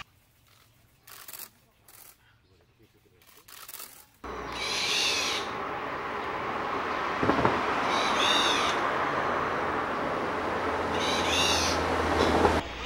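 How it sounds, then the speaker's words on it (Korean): A black-naped oriole gives three fluty, warbling calls spaced a few seconds apart over a steady rushing background, after a quieter stretch of faint clicks. "꾀꼬리가 내는 소리가 무척 다양하다."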